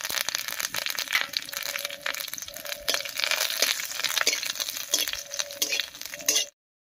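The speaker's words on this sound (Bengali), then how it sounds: "তেল গরম হয়ে গেছে, তেলের মধ্যে দেব দুটো শুকনো লঙ্কা" Dry chilies, black cumin and curry leaves sizzling in hot mustard oil, with a steady dense crackle and spit at close range that cuts off abruptly near the end.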